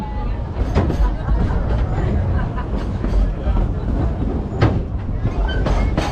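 An amusement park ride train rolls along its rails with a steady rumble and faint clacking, while a guide narrates over a loudspeaker above the background chatter of riders.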